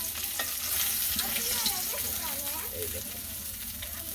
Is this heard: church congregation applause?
no